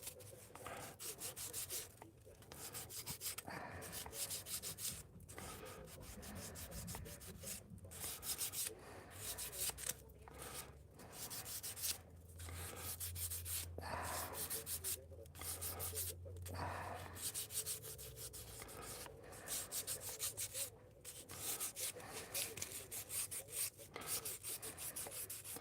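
Hand sanding of wood with rough sandpaper, a steady continuous rubbing and scraping of abrasive strokes running close and fairly loud throughout, with brief pauses between passes and a low hum in the background.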